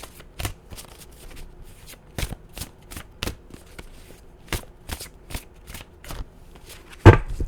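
Tarot cards being shuffled by hand, a steady series of sharp riffling snaps and soft slaps, close and fairly quiet, ending in a louder card flick.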